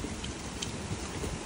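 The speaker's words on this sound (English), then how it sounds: "As you can see, it's raining and the wind is stronger now." Steady broadband hiss of rain falling at night during a hurricane, constant and fairly loud, with faint gusts of strengthening wind and a few brighter drop taps, no voices.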